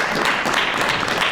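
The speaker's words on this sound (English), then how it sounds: "Let's give Marshawn a round of applause." An audience at a panel session applauding, a short burst of dense clapping that stays fairly even and fills the room, with no voices on top.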